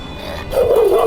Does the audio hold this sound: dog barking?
yes